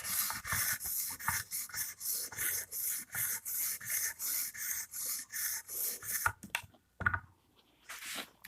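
An Emerson Karambit Tanto knife with a chisel grind is drawn over a 220-grit sharpening stone in about twenty even rasping strokes that grow fainter and break off near the end.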